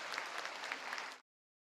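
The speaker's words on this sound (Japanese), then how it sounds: "鳴り止まない拍手の中、桜ヶ丘中学校吹奏楽部の定期演奏会は幕を閉じました。" Audience at a junior high school brass band's annual concert applauds, a faint, even ripple of clapping that cuts off abruptly into silence after about a second.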